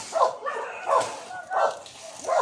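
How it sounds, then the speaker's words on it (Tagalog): A dog barks four times at a moderate distance, short yipping barks spaced about half a second apart. "Ayun ang aso yun."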